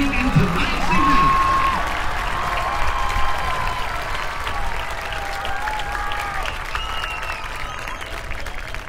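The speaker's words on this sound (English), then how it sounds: "one more time, a round of applause for all the schools participating in tonight's event" Large audience applauding at the close of a marching band festival awards ceremony, sustained broad clapping filling the hall at steady volume, with scattered cheers and faint voices mixed in.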